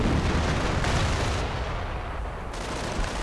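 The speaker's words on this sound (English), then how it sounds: "And more artillery being directed, probably against again the Flak again" Dense booming artillery fire and gunfire rumble continuously in a WWII strategy video game, a loud, steady wash of distant blasts with no clear separate shots.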